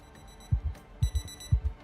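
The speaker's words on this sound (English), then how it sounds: "Ah, we had an alarm go off." An in-game alarm in the Project Zomboid survival game beeps loudly and close in three evenly spaced double pulses, with bright ringing overtones above a low thump.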